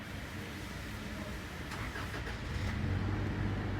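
A Toyota Fortuner engine turns over and catches, a steady mid-close rumble that swells slightly louder as it fires and settles into idle, with no voices.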